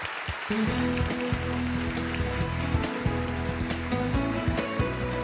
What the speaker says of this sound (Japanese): ご登壇いただいた皆様に改めて大きな拍手 を